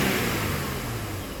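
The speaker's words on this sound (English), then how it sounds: "I'll rev it again." A Mercedes E350 with the M272 V6 engine revs steadily, a sustained, close, loud engine roar that holds for the whole short stretch with no talk over it.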